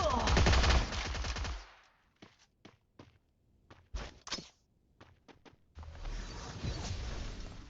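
Rapid bursts of P90 gunfire in the Free Fire video game: a sustained automatic burst, then a string of sharp separated shots, then another continuous burst.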